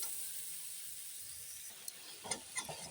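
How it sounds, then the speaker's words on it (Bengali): Peas and spices frying in oil in a pan, a faint soft sizzle with a few light stirring clinks and scrapes toward the end. "মটরশুঁটিটা দিয়ে দেবো তেলে একবারে কষানো হয়ে যাবে"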